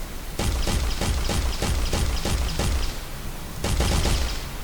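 Rapid gunfire from a test game built in Unreal Engine 4.15, a close, loud string of about ten evenly spaced shots, a brief pause, then a few more quick reports, with no voices.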